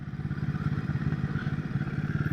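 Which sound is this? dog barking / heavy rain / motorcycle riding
motorcycle riding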